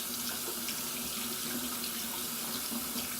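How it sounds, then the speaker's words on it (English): Steady running tap water splashes over hands being rinsed in a sink, a continuous close hiss with no talking. "So I'm going to go ahead and rinse thoroughly."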